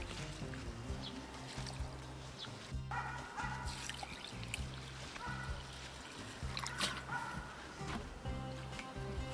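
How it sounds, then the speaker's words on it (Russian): Water sloshes and trickles as rice is swirled and rinsed in a bowl, a quiet irregular splashing with a faint dog bark. "Рис нужно, друзья, промыть хорошо, чтобы водичка была чистая."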